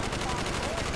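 Dense, continuous gunfire from Call of Duty: Black Ops, a steady rattle of rapid shots filling the whole second at close range, with a voice faintly mixed in.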